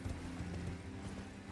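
Rapid clip-clop of the spectral horse Torrent's hooves galloping in Elden Ring, a quick steady rhythm with low thuds, fairly loud and close, with no talk over it.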